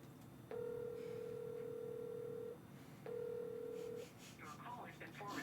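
An unanswered phone call on an outgoing line, two long electronic ringback tones separated by a pause, heard faintly in a quiet room; a voice speaks briefly near the end.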